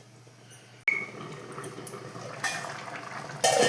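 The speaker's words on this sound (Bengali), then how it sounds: "এটা আরেকটু ফুটে যাক" A pot of Birbhum-style tamarind sour vegetable curry (niramish tok) bubbles and simmers with a steady soft hiss, broken by a few close metallic clinks of utensil against pot, with no voices.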